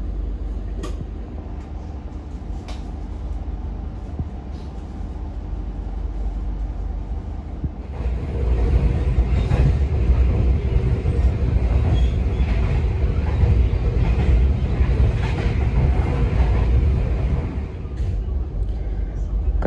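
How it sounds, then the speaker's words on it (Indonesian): Inside the Tawang Jaya train leaving Pemalang station, a low rumbling cabin drone swells and grows heavier partway through as the carriage gathers speed, with wheel and track noise and some faint background voices. "keberangkatan kereta api Tawang Jaya dari stasiun Pemalang"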